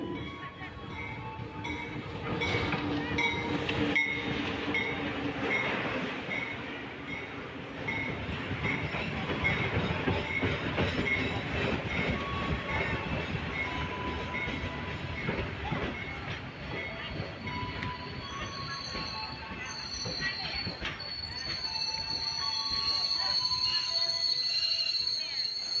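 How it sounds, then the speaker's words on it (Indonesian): Aboard the KA Pandanwangi passenger train running from Banyuwangi to Jember, wheels rumble and clatter steadily over the rails with faint squeals and hums, while voices murmur faintly in the background. "kita akan melakukan fun trip bersama KA Pandanwangi dari Stasiun Banyuwangi Kota ke Stasiun Jember"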